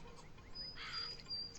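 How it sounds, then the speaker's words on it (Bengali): A crow calls in the Bangladeshi video game Meena 2, a few short, faint cawing chirps over steady low background noise. "এই যে এখানে একটা কাক আছে"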